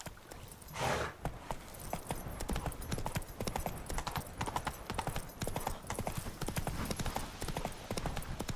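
Roach the horse galloping in The Witcher 3, a fast, close, relentless drumming of hooves with a short breathy snort near the start, continuing loud and steady to the end.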